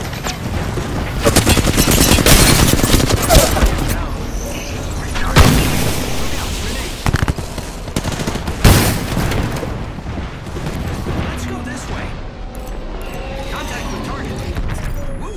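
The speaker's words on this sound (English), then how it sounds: "The enemies are shooting at me." Enemy gunfire rattles through a shooter game battle: dense bursts of rapid automatic fire and sharp booming shots crack loudly in clusters, with mechanical clatter between volleys and game voice lines spoken over the fighting.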